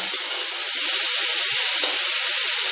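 Capsicum sautéing with salt in a hot pan for Tamil paruppu usili, a steady, fairly loud sizzle with a few faint spoon scrapes and no talking.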